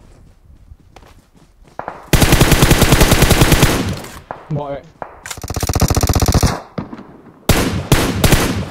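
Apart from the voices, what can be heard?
gunfire in PUBG Mobile, a video game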